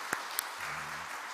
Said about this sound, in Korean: 우리 박수 한번 쳐줄까요?